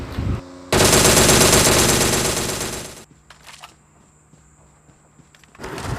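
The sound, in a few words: machine gun fire in a video game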